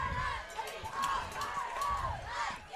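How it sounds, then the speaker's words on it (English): A crowd cheers and shouts in the stands at a high school football game between the Rivercrest Colts and Warren Lumberjacks. The sound is a steady, distant roar with rising whoops. "Crowd getting into it."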